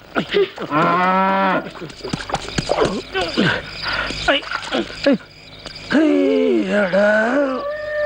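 A cow gives two long, drawn-out moos, one near the start and one at the end, with brief voices and other rustling sounds between them.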